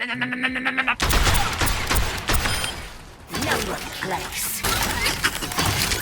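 Gunfire from Ashe's skinned rifle in Overwatch 2, loud bursts of sharp cracking shots in quick succession, broken by short pauses, layered with game sound effects and a voice talking over it.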